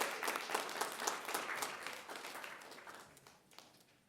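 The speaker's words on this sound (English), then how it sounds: "Big round of applause for Centennial Volleyball." A governing board meeting audience gives applause for a high school volleyball team, a fairly distant, even wash of clapping that slowly tapers off.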